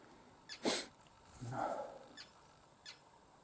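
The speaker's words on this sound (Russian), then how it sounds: "Чайки кричат." A few faint, scattered gull cries carry over a calm river in light rain, including one drawn-out squawking call among short sharp bursts, with no voices.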